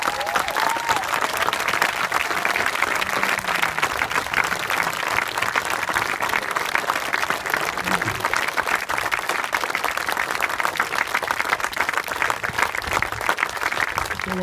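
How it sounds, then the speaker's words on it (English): Steady, dense applause from a gathered audience honoring boat builders at an outdoor christening event, loud and continuous throughout with no talking. "can we give them a round of applause?"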